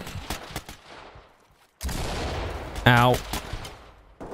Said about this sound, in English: I don't know where I'm getting shot from.